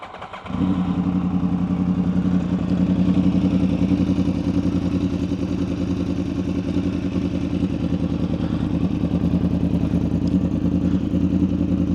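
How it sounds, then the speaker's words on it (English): A Yamaha R1 motorcycle's cross-plane engine catches after a brief crank and settles into a loud, steady, throbbing idle with an uneven, lumpy rhythm, close up. "So, cross-plane engine. A lot of people say it's one of the better sounding engines."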